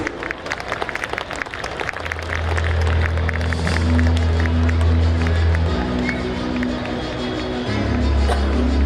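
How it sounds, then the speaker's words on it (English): An audience claps at a school anniversary celebration, loud sustained applause over a crowd murmur, with a low tonal hum from a sound system running through it. "Round of applause, please."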